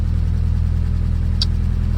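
A turbocharged Honda Civic engine idling: a steady, loud, low rumbling hum that holds even throughout, with one brief faint tick partway through and no talking.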